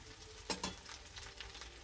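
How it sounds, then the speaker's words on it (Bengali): Egg kofta fritters crackle and sizzle softly in hot oil in a pan as they are turned, with a couple of brief louder clinks and bursts near the start. "বড়াগুলো একদিকটা ভাজা হয়ে গেছে, আবার এগুলো আস্তে আস্তে উল্টে দিতে হবে।"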